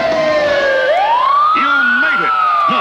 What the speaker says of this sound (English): Race and chase with flashing lights and real siren.